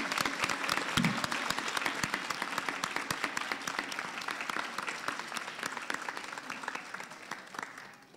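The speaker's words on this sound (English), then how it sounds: "Would you all join me in giving Professor Rainbow a huge round of applause?" A large audience at a college Christmas concert gives a long, full round of applause for a professor, many hands clapping densely and steadily before gradually tapering toward the end.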